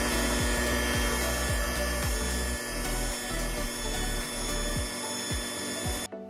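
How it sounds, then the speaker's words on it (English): An electric hand mixer beats Duncan Hines Signature carrot cake batter in a bowl: a loud, steady motor drone with a rhythmic scraping and swishing as the beaters work through the batter. "Now I'm going to take my hand mixer. I'm going to mix our batter for 2 minutes."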